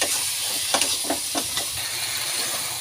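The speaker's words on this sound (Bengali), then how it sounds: "এখন আমি এই মশলার মধ্যে মাংসটা দিয়ে দিচ্ছি। মাংসটা দিয়ে নাড়াচাড়া করে নিচ্ছি।" Chicken pieces stirred and frying in a spice masala in a pan for a village-style chicken and potato curry, a steady close sizzle with a few soft scraping stirs and no talking.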